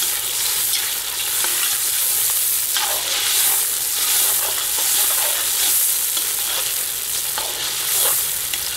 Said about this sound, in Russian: Я все время разгоняю жир по стенкам казана, чтобы он был все время горячий.